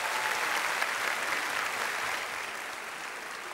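A TV studio audience on a Turkish talk show breaks into dense, sustained applause, a loud wash of clapping that eases slightly toward the end.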